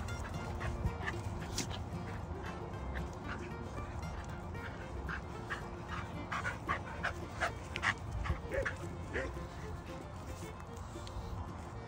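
Several dogs bark, yip and whimper on an outdoor pack walk, with short scattered calls at moderate distance and people talking throughout.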